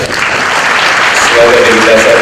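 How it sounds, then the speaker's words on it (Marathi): Loud, steady applause from a crowd at a felicitation ceremony, sustained clapping with no break and a faint voice or tone near the end. "एकदा जोरदार टाळ्या"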